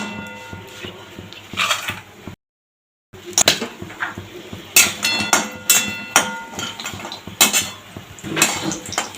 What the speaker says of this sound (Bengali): এবার বড়ি ভেজে নেব।